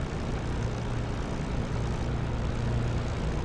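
Steady droning propeller engine of a P-51 Mustang taxiing toward the runway in the DCS World flight simulator, a loud continuous low rumble with no breaks.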